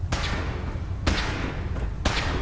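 Three sharp gunshots from a weapon in the Fallout 4 video game, evenly spaced about a second apart, each a loud broadband crack over a steady low background rumble.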